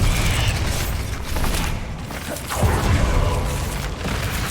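A blasting spell explosion in Hogwarts Legacy, a loud dense roar of rumble and crackling debris that swells and churns for several seconds with no clear pauses.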